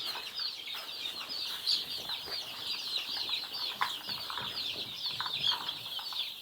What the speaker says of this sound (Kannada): ಹೀಗೆ ಬರುತ್ತೆ ಪ್ಯೂರ್ ನಾಟಿ ಕೋಳಿಗಳು ಬರ್ತವೆ